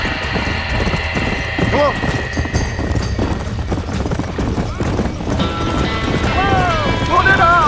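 Horses in Red Dead Redemption during a barn fire: rapid clip-clop of hooves with whinnying and neighs, loud and close, under urgent shouted voices.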